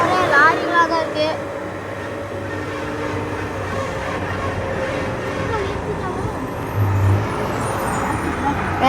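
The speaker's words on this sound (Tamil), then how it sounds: "ஒரே லாரிகளாக தான் இருக்கு." Heavy lorries rumble past on a road near Mysore in a continuous low traffic roar, with people talking close by over the engine noise.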